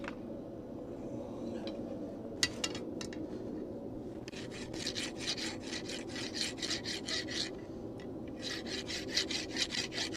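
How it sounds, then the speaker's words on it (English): Rasping hot steel with a hand rasp, rhythmic scraping strokes that start sparse and become a fast steady run of harsh rasping passes, close and clear. "We're still gonna do some hot rasping."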